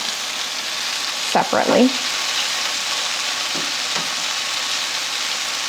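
Chicken pieces searing in a hot pan give off a loud, continuous sizzle and fry, with a short spoken word and a few stirring knocks over it.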